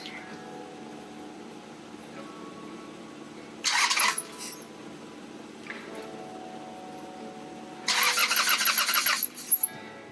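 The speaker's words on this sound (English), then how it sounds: "I'm going to take a look and see what the carburetor's doing when I try to start it." Harley motorcycle engine cranking but failing to start, two bursts of loud starter grinding with a quiet pause between them, close by, against a faint steady background hum.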